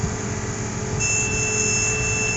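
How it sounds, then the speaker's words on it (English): A steady electronic alarm tone beeps from a tractor pulling a cultipacker, continuous and fairly loud, with a brighter high tone starting partway through over low engine rumble. "I have no idea which freaking alarm that is"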